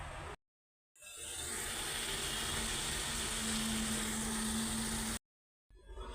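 Small pabda fish frying in oil in a pan, a soft steady sizzle that cuts in after a brief silence, holds for about four seconds and then drops out again, quiet and close.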